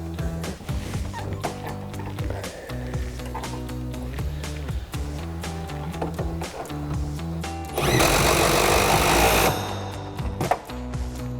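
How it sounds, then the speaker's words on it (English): An impact wrench with an 18mm socket runs one loud rattling burst of under two seconds, tightening the top nut on a 2005-2009 Mustang GT front strut, over a steady mechanical hum and clicks. "then we'll tighten that down with our 18mm socket on our impact"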